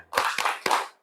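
Three distinct rhythmic claps from a classroom group doing a spirit clap, close and evenly spaced, each a sharp burst of hands striking together.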